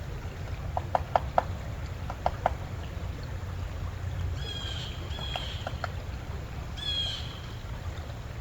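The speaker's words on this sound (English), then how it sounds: "Woodpecker at work already this morning" A few faint, sparse woodpecker taps on wood in small clusters on a cold morning at a campsite, with bird calls and a steady low rumble of wind or water behind.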